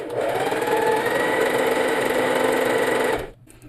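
A Singer 4423 sewing machine stitches a double zigzag with a fast, close, steady mechanical whir, then stops abruptly, leaving a short quiet tail.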